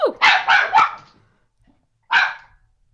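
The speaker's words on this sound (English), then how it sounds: "My dog is barking." A dog barks four times in a quick burst, then pauses and gives one more bark, loud and close, with no talking.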